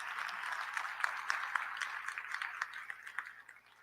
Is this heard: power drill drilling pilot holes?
no